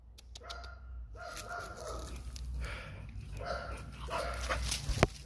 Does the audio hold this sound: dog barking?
yes